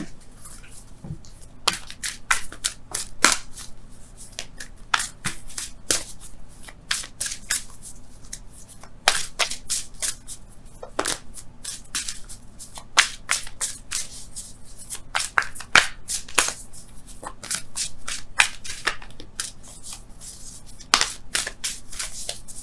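Wisdom of the Oracle cards are shuffled by hand in repeated crisp riffling bursts, close and clear, with short pauses between runs and no talking.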